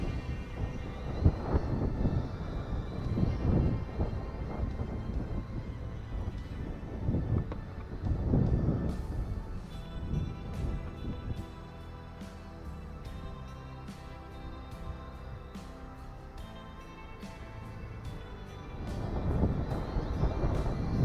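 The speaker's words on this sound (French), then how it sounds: "avec du vent, bon là c'est vrai que j'ai beaucoup de vent" Strong gusty wind buffets the microphone while a Cheerson CX35 FPV drone flies, with heavy low rumbling bursts early on and toward the end and steadier rushing in between.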